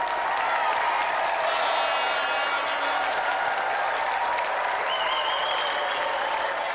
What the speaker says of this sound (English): applause for a brilliant impromptu challenger, Helen Williams.